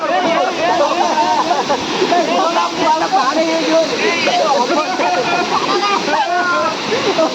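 A waterfall near Kendujhar heard during a picnic outing, a loud, continuous rushing roar of falling water that fills the whole stretch, with people talking over it.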